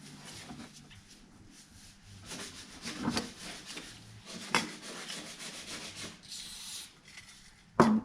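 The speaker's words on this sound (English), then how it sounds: "Lyndon's in the background sanding an MG" Intermittent rubbing and rasping of sanding an MG car body in a workshop background, irregular strokes with a few sharper knocks and scrapes, fairly faint overall.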